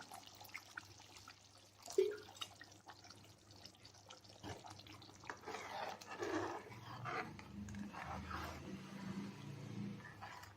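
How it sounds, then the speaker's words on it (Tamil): Water pours into a pot of Andhra fish curry with a hollow, bubbling gush that builds midway and continues, preceded by quiet clinks and drips. "இப்போ கொஞ்சம் தண்ணி மிக்ஸ் பண்ணுறேன்"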